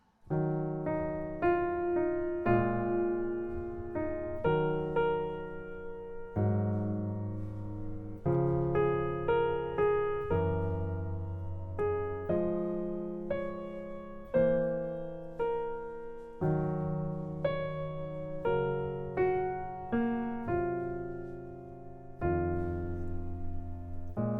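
Solo jazz piano plays the melody of a song over sparse left-hand shell-voicing chords, notes struck in a relaxed swinging rhythm, close and moderately soft.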